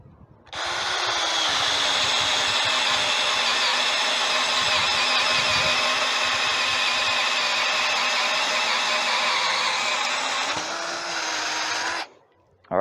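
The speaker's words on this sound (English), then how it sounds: "All right, 1-inch speed bore, speed 1, ready." A Ryobi P215 18V half-inch drill boring with a 1-inch speed bore bit on its low speed setting, a loud steady whine running about eleven seconds before winding down, close by.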